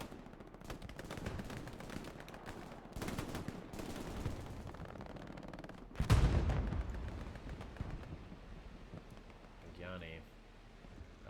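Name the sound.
machine gun fire in a video game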